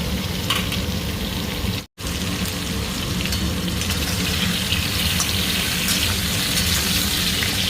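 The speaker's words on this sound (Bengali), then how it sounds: "লাউ ভাজছি, তার মধ্যে সবুজ সবুজ কাঁচা লঙ্কা দেখতেও সুন্দর লাগে" Bottle gourd and green chillies fry in a pan, giving a loud, continuous hissing sizzle close by, broken by one brief silent gap.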